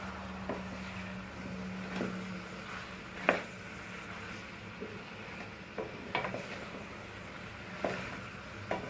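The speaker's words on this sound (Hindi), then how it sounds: "तो इसी मसाले पे आलू और गोभी को भून के" Potato and cauliflower pieces frying and being stirred in a spiced masala in a pan, a steady close sizzle broken by several scraping stirs of a spoon against the pan.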